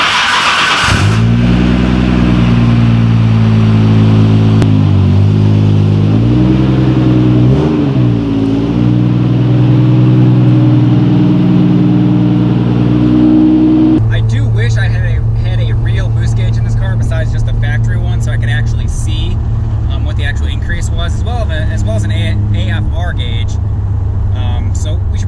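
Nissan Skyline GTR with boost turned up, its engine loud and close throughout with rising and falling revs through gear changes, a harsher, busier engine note in the latter half, under steady talk.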